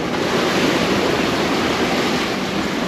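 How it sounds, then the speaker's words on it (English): Ocean waves break beside a sailboat on the open sea between Bora Bora and Tonga, making a loud, continuous rushing wash with wind noise. "the waves are breaking just beside me or wandering under the boat"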